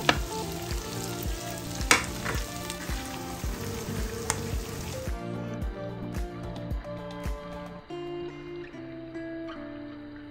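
Chopped onion frying in a pan for chicken hakka noodles, a bright close sizzle with clattering stirring, louder in the first half then softer and sparser, with tonal kitchen sounds underneath.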